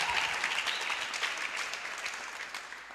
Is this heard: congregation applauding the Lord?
yes